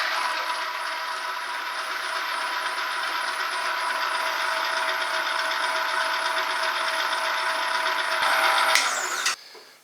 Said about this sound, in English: The grinder,